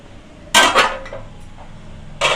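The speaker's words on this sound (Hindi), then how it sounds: "5 मिनट बाद में मैं चम्मच चला हूँ" A spoon scrapes and clinks against a pan of carrot halwa in a few short metallic bursts, with quiet pauses between them; heard up close with no talking.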